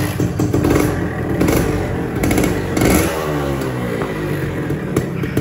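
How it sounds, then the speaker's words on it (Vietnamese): Suzuki Xipo 99 motorcycle with an original frame and engine whose top end has never been opened, starting up and revving close by, rough mechanical clatter rising and falling through several throttle blips with no talking. "Rồi bây giờ mình nổ máy ha mọi người."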